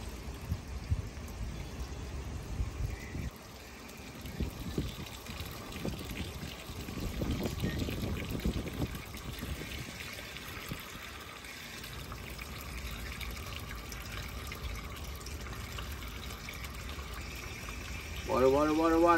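Water poured from above into a potted impatiens plant, a soft, uneven trickle in bursts, heard faintly under someone talking.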